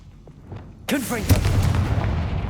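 A Confringo spell from Hogwarts Legacy bursts with a sudden loud blast, followed by a second impact and a rumbling, crackling tail over faint background sound.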